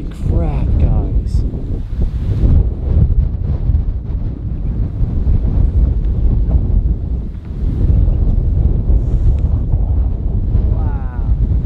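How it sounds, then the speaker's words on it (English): Strong wind buffets the microphone on a mountain road in Hakone, Japan, a loud continuous roar with gusty surges, while someone talks excitedly over it. "It's so windy."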